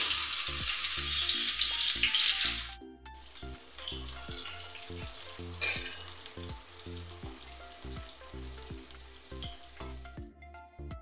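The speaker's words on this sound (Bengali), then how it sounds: "কালো জিরা ফোড়ন দিয়ে দিলাম, পেঁয়াজগুলো দিয়ে দিচ্ছি" Onions hit hot oil tempered with nigella seeds, a loud bright sizzle for the first couple of seconds, then settling into a quieter steady frying hiss with occasional spatula scrapes, with music playing along underneath.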